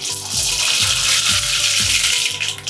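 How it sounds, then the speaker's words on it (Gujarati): Mustard seeds crackle and sizzle in about three tablespoons of hot oil, a dense, continuous frying hiss heard up close with a low background hum. "આપણે આમાં રાઈ નાખીએ"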